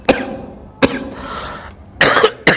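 Several harsh, loud coughs close by, spaced apart, the last ones longer and rougher, with a faint throat-clearing rasp between.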